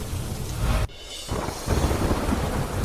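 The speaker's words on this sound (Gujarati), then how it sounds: "દ્વારકાના ભાટિયા ગામમાં ધોધમાર વરસાદ" Heavy downpour in Bhatiya village, Dwarka: a loud, steady wash of rain noise that drops out abruptly for a moment midway, then returns just as dense.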